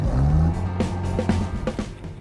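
An Amphicar amphibious car pulls away, its engine droning low and steady close by, with a few sharp knocks and clatters cutting through the hum.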